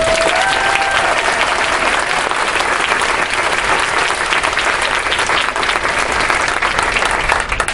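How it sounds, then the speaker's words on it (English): Sustained applause from a large crowd, steady dense clapping that fills the whole stretch without a break. "Let's give her a round of applause."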